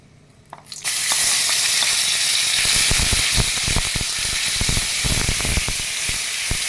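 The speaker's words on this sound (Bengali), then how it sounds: "এবার আমি একটু পেঁয়াজ বাটা দিয়ে দিচ্ছি।" Onion paste hits hot oil already seasoned with cinnamon and bay leaves, erupting into a loud, sustained sizzle after a quiet start, with sharp spitting crackles for several seconds and no voices.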